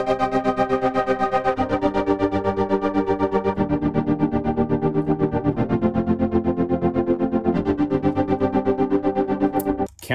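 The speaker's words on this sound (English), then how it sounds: "Dark version. Flutter pad." Dark version of a flutter pad patch from the OmniPulse 3 CineFire synth library plays alone, a thick sustained chordal pad with a fast, regular rhythmic tremolo pulsing throughout.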